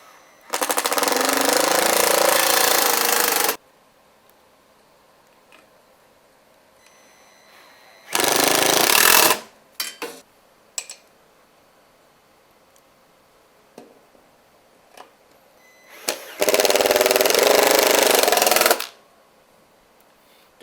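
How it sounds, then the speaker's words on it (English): A power driver sets screws into a bar stool seat in three loud, buzzing bursts of a few seconds each, separated by quiet pauses with faint clicks and handling sounds. "Don't drive those screws in too deep."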